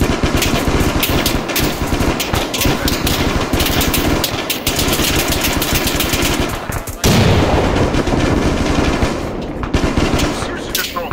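Loud, continuous automatic gunfire from a military shooter game, Arma 3, with dense rapid bursts and a sharper explosive jolt partway through, likely a frag grenade, under occasional faint voices.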